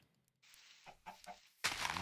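Chickens in Minecraft give a few short, soft clucks in quick succession, followed by a sudden louder burst of noise at the end.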